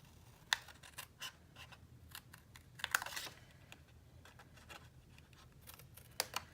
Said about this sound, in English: So this is just a straight cut along the crease.